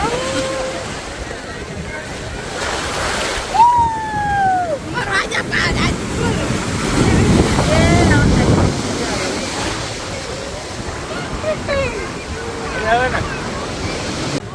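Sea waves roll at the Dwarka shore under steady wind and microphone buffeting. The surf swells to a louder wash midway, with distant voices and whistles scattered across it.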